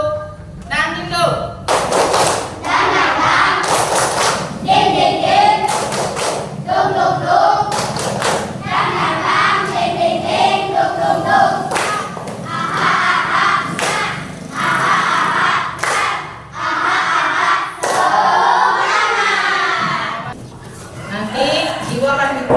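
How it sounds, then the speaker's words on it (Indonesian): Students in a classroom clap their hands in repeated rhythmic bursts, loud and close, with a teacher speaking and children's voices between the claps. "Coba tepuk tangan dulu."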